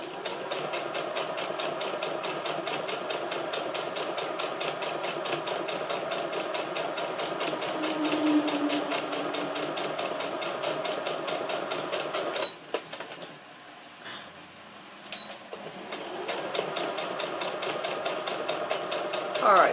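A sewing machine runs in a steady, continuous mechanical whir while stitching a quilt block, holding an even, fairly loud drone for most of the stretch before dipping briefly and resuming.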